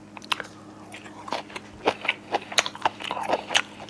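Close, crunchy chewing of a pork jowl rice bowl, with irregular bites and mouth clicks repeating over a few seconds and no talking.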